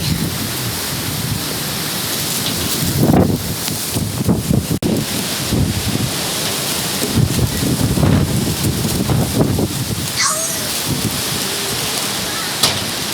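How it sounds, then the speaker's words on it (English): Steady wind roar during a stormy day buffets the microphone with a wash of rain-like hiss, gusting unevenly throughout, with some faint rustling and a brief chirp near the end. "It's been very rainy and windy and stormy."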